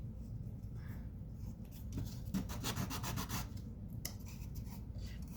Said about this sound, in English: I'm sanding it just a little bit